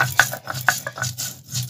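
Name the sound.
grinding cumin spice paste for fish curry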